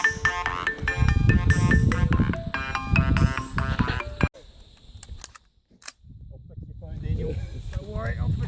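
An iPhone alarm plays a bright, repeating melodic tune, loud and close, for about four seconds, then cuts off, leaving a lull and faint handling noises.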